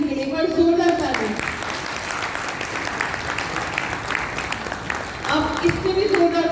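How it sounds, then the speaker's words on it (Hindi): An audience at a guided meditation and Rajyoga session bursts into loud, sustained applause, with a person speaking over the start and again as the clapping fades near the end. "एक बार जोरदार ताली।"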